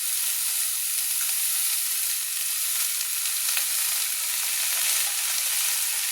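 Drumstick flowers frying in a pan give a loud, steady, bright sizzle that hisses continuously with small crackles throughout, close up and with no voices.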